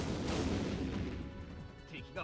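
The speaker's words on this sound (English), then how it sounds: "The enemy's opening fire!" Enemy cannon fire aimed at a steam-driven airship in the game Code: Realize, heard as heavy booming blasts rumbling over continuous engine and wind noise, with a narrating voice present.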